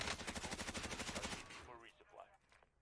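Rapid automatic gunfire in the Warzone battle royale game rattles in a fast, even burst for about a second and a half, then cuts off, leaving quieter in-game sounds and faint voice-like chatter.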